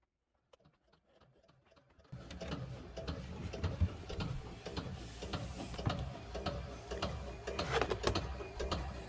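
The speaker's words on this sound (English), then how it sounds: "that noise you just heard is one of our vacuum flush units pumping" A boat's vacuum flush toilet unit pumping in the engine room, starting after a quiet moment with a busy, rhythmic mechanical clatter of ticks and knocks that continues steadily.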